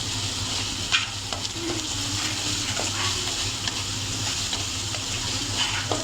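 Green chilies frying with garlic and ginger in a pan, a steady close sizzle with occasional stirring clicks, no talk over it.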